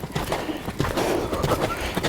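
Horse hoofbeats during a walk-to-canter transition in riding practice, quick irregular muffled thuds picking up into a steady rolling rhythm, heard up close and fairly soft.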